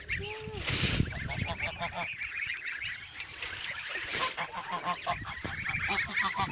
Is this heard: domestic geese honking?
yes